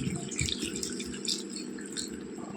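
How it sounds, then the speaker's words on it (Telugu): Water is poured into a pan of fried chicken gravy for a pulao, a close trickling and splashing pour that runs steadily with small drips and bubbling, and nobody speaks. "కొద్దిగా వాటర్ వేస్తున్నాను"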